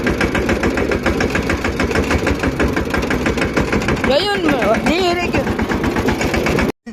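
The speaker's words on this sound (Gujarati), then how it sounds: "આપણે અત્યારે ટ્રેક્ટર લઈને હાલતા થઈ ગયા છીએ" A tractor engine runs close by with a steady, loud mechanical chug and rattle throughout, some voices briefly heard over it, before it cuts out near the end.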